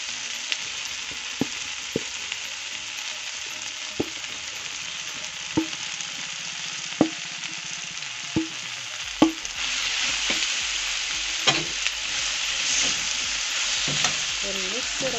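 Spiced potatoes fry in a pan with a constant bright sizzle, while a utensil stirs them in sharp scraping taps at irregular intervals, close and fairly loud with no talking.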